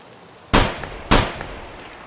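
Two sharp gunshots from a player's gun in the video game Escape from Tarkov, fired at scavs about half a second apart, each a loud crack with a short decaying tail over quiet background.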